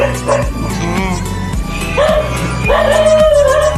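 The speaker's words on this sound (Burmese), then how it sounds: "ခုနခွေးဟောင်းတယ်နော်" A dog barks loudly and close by, its rapid barks mixed with high yips and whimpering whines that continue without a break.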